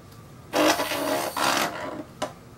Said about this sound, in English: Now on this container, I'm going to try using this little blender.